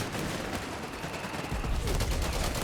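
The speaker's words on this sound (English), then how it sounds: "The Johnson light machine guns still are delivering a deadly deluge of bullets here." Johnson light machine gun fire in Company of Heroes 3, a dense, rattling stream of rapid shots layered over battle noise, growing heavier in the second half.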